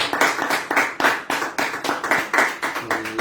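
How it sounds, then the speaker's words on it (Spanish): A church congregation claps in a slow, regular, rhythmic beat, each sharp clap clearly separated, about three per second in unison, close and bright, with no talk over it. "Demos un aplauso al Señor."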